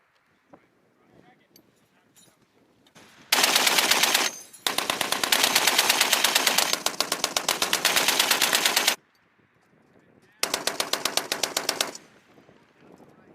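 Machine guns fire long, rapid, very loud bursts on a US Marine Corps regiment's annual training range, with two extended strings of shots and a shorter final burst, set between quiet stretches carrying faint wind and distant voices.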